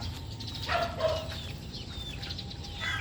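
Small chicks being raised in a swept pen, several batches together, giving faint chirps and peeps with a brief flutter of wings over a low background rumble.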